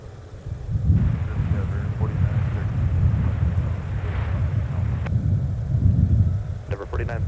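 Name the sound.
Airbus A321XLR airliner landing on runway 30 left at MSP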